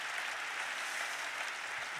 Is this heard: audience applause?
yes